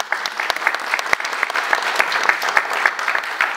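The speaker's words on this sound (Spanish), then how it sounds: "está la maestra Luisa Chávez Solano, para quienes le pido un aplauso." Audience at a forum on the Mixteca in the Mexican Revolution claps steadily, with a dense stream of close hand claps and a few sharper individual claps punching through, sustained throughout without pause.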